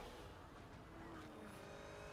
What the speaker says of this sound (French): Les sons de moteur sont ultra réalistes.